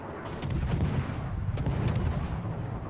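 Naval guns fire in the World of Warships naval battle game, booming as a dense, continuous rumble of repeated heavy salvos with sharper cracks on top, loud and steady, and no talking.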